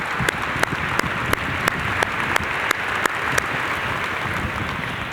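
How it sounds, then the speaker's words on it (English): Audience applause at a city State of the City speech in Bridgeport, a steady dense clapping crowd filling the hall, with sharper individual claps popping out at intervals and no talk over it. "Give them a round of applause."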